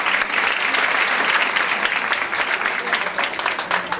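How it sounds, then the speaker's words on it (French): Loud, sustained audience applause for speakers at a medical conference on personalized medicine, many hands clapping at once, thick and even at first and thinning slightly toward the end. "Je sollicite de votre part des applaudissements très forts pour ces personnes-là."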